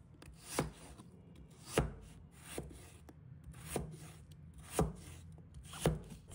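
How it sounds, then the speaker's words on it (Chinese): A knife cuts halved potatoes into thick pieces on a board, five or six crisp, evenly spaced chops with soft scraping between them, close and fairly quiet, no voices. "首先将马铃薯对半切开，接着使用斜刀以45度角将其切成较厚的块状"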